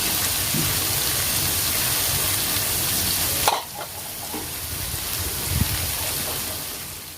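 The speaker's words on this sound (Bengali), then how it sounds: "ঢাকনা দেবো না, এইভাবে ফ্রাই করে নেব" Bitter gourd (karela) pieces fry uncovered in hot oil in a pan, giving a loud, steady sizzle. Midway the sizzle drops sharply, and then quieter frying goes on with a few scattered pops.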